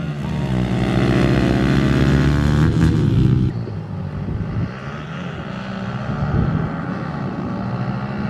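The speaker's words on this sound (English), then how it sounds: "here's the race. Mike's racing the stock CRF versus the stock 110L" Two motorcycles race, a stock Honda CRF450L dirt bike and a stock 110L: loud, close engine roar with rising revs that drops sharply as they pass and recede into a rougher, fainter drone.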